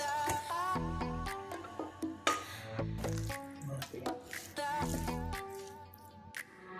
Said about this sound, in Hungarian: Hozzáöntjük a borsót.